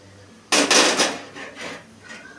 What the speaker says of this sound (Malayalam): അപ്പം ചട്ടി നമുക്ക് അടപ്പിൽ വെക്കാം